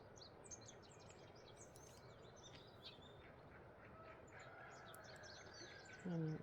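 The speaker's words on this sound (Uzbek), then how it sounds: "chug'urchuqlarni eshiting" A flock of starlings chirps in a hushed, still outdoor setting, giving a faint, distant scatter of many short, slightly harsh calls with no voices.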